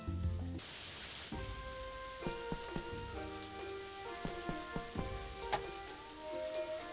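Steady rain pours in the farming game Story of Seasons: A Wonderful Life, a constant broadband hiss under light musical tones and soft chimes, with no talking.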